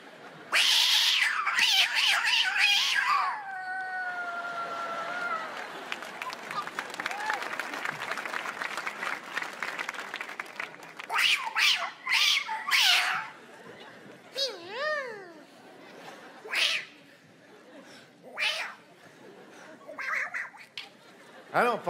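A comedian imitates cats with drawn-out meows and yowling caterwauls during a live stand-up show, a loud audience laughing and applauding around the vocal impressions.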